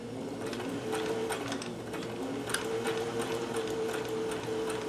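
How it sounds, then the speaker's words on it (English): A Singer sewing machine runs steadily in reverse to lock the stitches at the end of a seam, giving a close, continuous mechanical whir with a fine ticking rhythm and no talking. "A little bit of reversing to secure the stitches."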